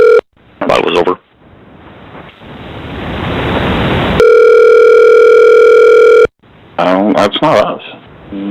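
On a conference call line, a loud, steady electronic dial tone sounds for about two seconds, alone. Before it comes a rising hiss, and after it come brief tonal beeps and voices talking.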